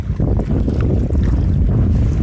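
A boat crossing the open sea near an island, with a loud, steady rumble of engine, water and heavy wind buffeting the microphone throughout.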